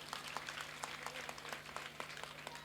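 Applause from an audience at a devotional Manas recitation gathering, a faint, steady patter of clapping with scattered louder claps over a constant low hum.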